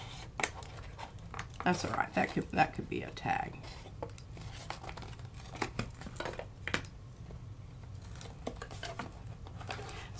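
Scissors snip through a stiff piece of paper during an accordion book build, giving a few crisp cutting crunches close by while a person talks over and around them.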